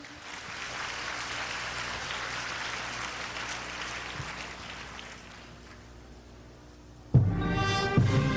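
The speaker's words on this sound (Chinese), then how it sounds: "现在让我们用最热烈的掌声欢迎我们的陈静红老师" Broad, continuous applause from a concert audience greeting a teacher, sustained and even for several seconds before fading, then cut off by a sudden loud burst of band music.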